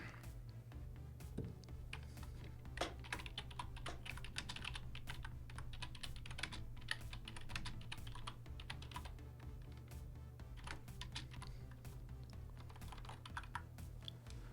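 Keys clatter on a computer keyboard as a program is written, a steady stream of quick, irregular clicks over a low hum, with no voices.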